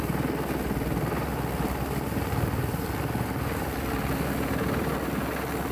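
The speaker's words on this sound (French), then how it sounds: "Voici l'hélicoptère qui arrive sur l'église pour sa première rotation." Helicopter arriving over a village church to lift a bell, a loud, steady rotor-and-engine roar with rhythmic blade chop, close by and filling the whole stretch with no talk.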